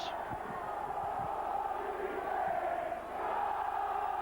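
A rugby league derby crowd at Wigan versus St Helens in 1998 gives off a steady, broad roar and murmur, with scattered shouts rising from the stands throughout.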